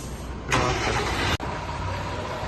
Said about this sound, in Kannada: ನೋಡಿ ಮಾರ್ನಿಂಗ್ ಗಾಡಿ ಹೋಗ್ತಿದೆ